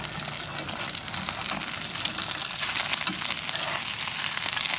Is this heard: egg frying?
yes